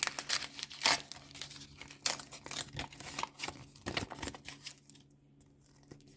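A paper sticker packet crinkles and tears open in a series of short, close rustling bursts, then trails off into a quiet pause near the end.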